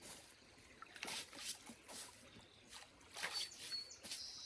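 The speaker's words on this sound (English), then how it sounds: "So we're in the creek cleaning off our boots." Gumboots being rinsed in creek water on a dairy farm, faint splashes and sloshing strokes in a few quiet bursts against gentle stream background.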